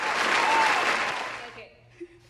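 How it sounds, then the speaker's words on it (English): Applause from an audience at a Willits winter evening show, a dense burst of clapping that fades out after about a second and a half, followed by a short voice. "another round of applause."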